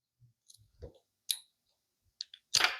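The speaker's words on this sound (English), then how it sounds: "So we're just going to cut these popsicle sticks here." Popsicle sticks being snipped to length for a knitting kit, giving a few sharp separate clicks and snaps spread across a quiet span, ending in a louder crunching snap.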